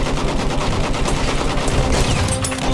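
Enemy machine gun fire in Battlefield 1 on the Galicia map, a dense, loud, continuous stream of rapid shots blending with other battle noise, no speech.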